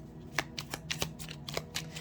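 Oracle cards from a Secret Garden deck riffled and shuffled by hand, a quick run of crisp papery flutters and snaps at close range with no voices.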